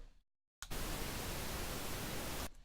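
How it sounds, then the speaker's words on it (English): A burst of pink noise generated in SuperCollider, a steady, even hiss that starts abruptly after a brief silence, runs for about two seconds, then cuts off. "pink noise."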